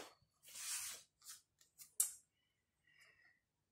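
Scissors snipping out a small paper label for a scrapbook album page: a longer cut followed by several short, crisp snips close up, then near silence with a faint rustle at the end.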